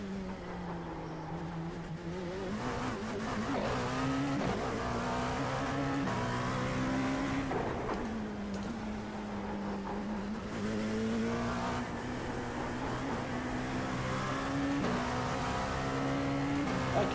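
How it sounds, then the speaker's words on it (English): Dallara P217 LMP2 race car driven for a lap in a racing video game, its engine rising and falling through upshifts and braking, fairly faint and continuous with no talk. "that is a lap of Dallara in the brand new Dallara P217"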